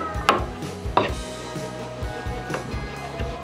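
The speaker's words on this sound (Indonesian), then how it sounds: "Kita haluskan bersama ikan tadi." Kenikir greens being pounded together with fish in a mortar, giving several heavy rhythmic thuds about a second apart with some lighter knocks between, close and fairly loud.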